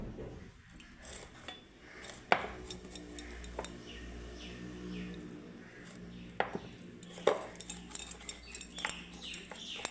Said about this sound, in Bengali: এখন ভালো করে আমি ফেটিয়ে নেব